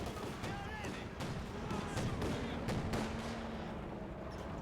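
Ostwind anti-aircraft tank firing in Company of Heroes 2, with repeated sharp gunfire bursts over steady battle noise while a commentator talks throughout.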